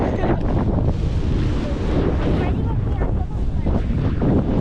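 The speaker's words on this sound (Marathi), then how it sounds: "हवा सुटले आणि वातावरण एकदम थंडगार आहे" Strong wind buffets the microphone outdoors beside a large windmill, a steady rushing roar with gusting swells throughout and no clear gaps.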